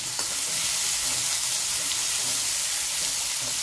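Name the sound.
ginger garlic chili paste sizzling in oil with onion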